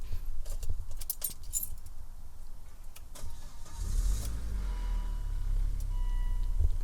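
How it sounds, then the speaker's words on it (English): Volvo S60 T5 five-cylinder turbo starts up after a few faint keys and clicks, settling into a low, steady, fairly close rumble that grows louder toward the end. "I'm gonna get it started just so that you can get a flavour for this 5-cylinder turbo."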